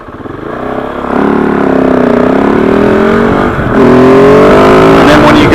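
A KOVE 450 Rally motorcycle engine fires up and settles into a loud, steady idle with a slight rise in revs partway through, the running engine sound close and continuous.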